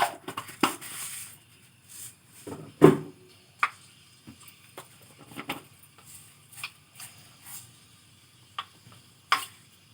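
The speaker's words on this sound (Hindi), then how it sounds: "ये मेथी का तड़का दे रही हूँ।" Fenugreek seeds crackle and sizzle in hot oil, with scattered sharp pops and spits over a faint frying hiss.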